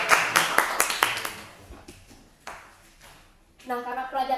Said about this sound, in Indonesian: Kasih tepuk tangan sama temannya.